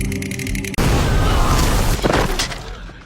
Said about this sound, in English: An explosion happened and wiped out Stephen's men